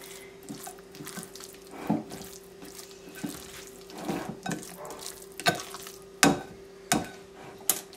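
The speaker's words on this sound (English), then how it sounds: "Mix it all together" Pesto is mixed into raw zucchini pasta with faint, wet, squelching stirs and a few sharper clicks, close by and quiet over a low steady hum.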